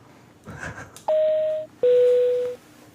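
Two long telephone keypad tones sound one after the other as a number is dialed, loud and clear after a brief soft rustle, with no voices.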